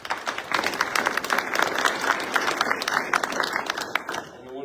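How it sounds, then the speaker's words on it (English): Audience applause at a military change of responsibility ceremony, steady dense clapping from a crowd lasting several seconds before tapering off at the end, with some faint voices mixed in. "We just give them all a round of applause."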